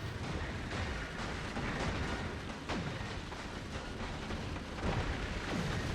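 Rocks blasted apart into fragments in a space ship-building game, heard as a run of repeated booming explosions and bursts at steady loudness, with no talking.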